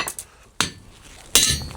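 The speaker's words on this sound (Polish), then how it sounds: "Bić młotkiem." Hammer blows on hot metal resting on an anvil during blacksmith cutting work, three sharp ringing metallic strikes spaced irregularly, the last loudest and ringing longest, close up with no talking.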